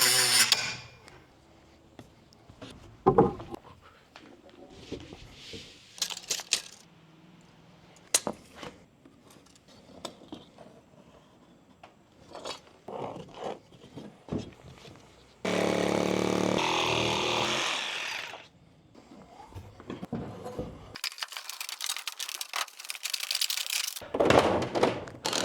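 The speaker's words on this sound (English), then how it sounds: "I gotta get out the cutoff wheel and get off these screws here on both sides that I couldn't get." Cutoff wheel cutting screws inside an enclosed cargo trailer, with bursts of harsh high-pitched grinding between clanks, knocks and handling noises, one sustained stretch of cutting and several shorter ones.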